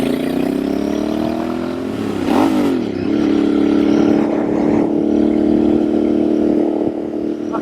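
Royal Enfield Bear 650 motorcycle fitted with a shotgun exhaust pipe, riding along with a loud, steady engine drone that rises and dips briefly in pitch, then settles into a sustained, even hum.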